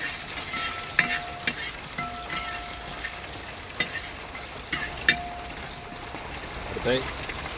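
Curry leaves frying in coconut oil in a pan over a wood-fired stove, stirred as they crackle with a steady sizzle and scattered sharp pops.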